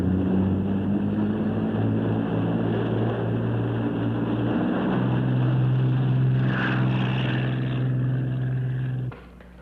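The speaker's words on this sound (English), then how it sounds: "No, only one helicopter." A helicopter flying overhead in a swampy setting, with a steady droning engine and rotor hum that holds loud and even for about nine seconds, then drops off sharply at the end; no talking.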